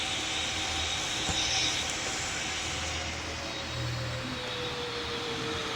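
Lufthansa A350 jet airliner at an airport, a steady, moderately loud engine roar with a slowly falling whine, heard from a distance without talk.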